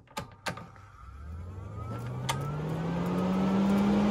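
A newly installed roof vent fan on an RV spins up after a couple of switch clicks, its motor hum rising steadily in pitch and loudness before settling into a close, continuous whir.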